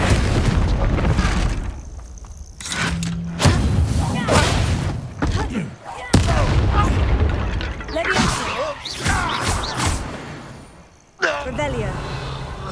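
Fiery Confringo spell blasts in the Hogwarts Legacy video game, a run of loud booming explosions and crashing impacts in combat, mixed with shouted voices and game effects throughout.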